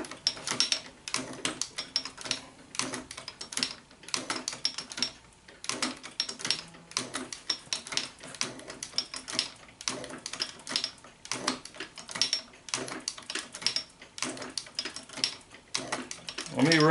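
A shop-built hand shaper cutting metal, making steady scraping, rattling clatter in quick repeated strokes as chips come off the workpiece, close and continuous with no talk over it.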